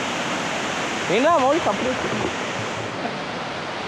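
Steady, full rushing water from a hidden waterfall in Kotagiri, a close, constant roar of falling water, with a short stretch of a person speaking partway through.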